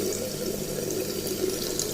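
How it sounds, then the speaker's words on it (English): Cold tap water runs steadily into a beaker, a soft continuous splashing and trickle at close range, moderately quiet with no speech. "you're just going to use some cold water"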